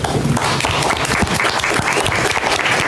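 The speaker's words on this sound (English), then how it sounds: "I'd like to give him a round of applause." Applause from the audience at a county board of education meeting, a steady close wash of many hands clapping that fills the whole moment without talk.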